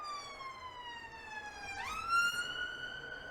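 A siren wails nearby, its tone sliding steadily down and then jumping up into a higher sustained pitch, heard alone with low background hum.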